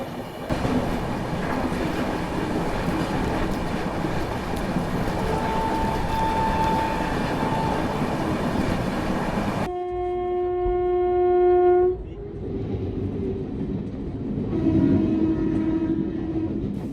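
Another train passing close alongside, heard from aboard the Ahmedabad-Gorakhpur Express: a loud continuous rumble and rattle of rolling stock, then tonal horn and wheel-squeal notes over the clatter in the later part.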